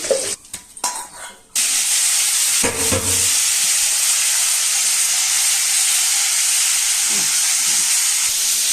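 Cauliflower frying in hot oil gives a loud, steady, dense sizzle that bursts in after a few soft clatters and then holds without a break, close and continuous with no talking.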